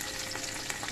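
Chopped onions and garam masala frying in hot oil, a close, steady hiss with faint crackles and a couple of soft stirring scrapes, no voices over it.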